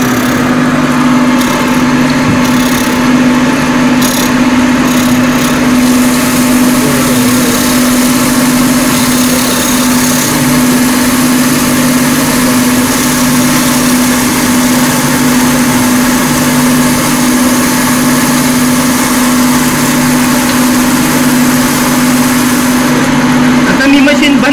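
A cylindrical grinding machine runs continuously while its abrasive wheel is being dressed, giving a loud, steady mechanical drone with a strong even hum and a faint high hiss throughout, with no talk over it.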